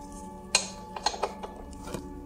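A torque wrench clicks and ratchets as a motorbike bolt is tightened to 87 newton meters, giving a few sharp metallic clicks and taps at close range over a low background hum.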